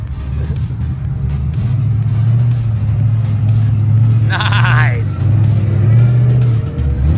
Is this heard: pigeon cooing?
no